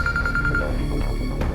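A telephone rings in a home setting, a steady repeating ring pattern with short evenly spaced pulses in the first half, then fading into ambient room noise with faint background sounds.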